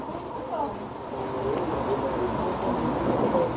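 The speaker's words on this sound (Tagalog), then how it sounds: "Buti nga nag-ulan na." Steady rain pattering down with a low rumbling undertone, while voices talk softly in the background.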